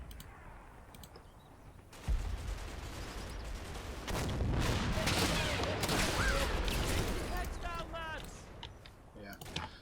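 Machine gun bursts and broad gunfire rattle through a Combat Mission battle in the Normandy hedgerows, starting abruptly and staying loud and dense to the end, with chirping overtones near the close.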